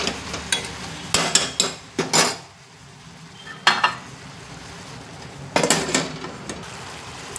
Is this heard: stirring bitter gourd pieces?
yes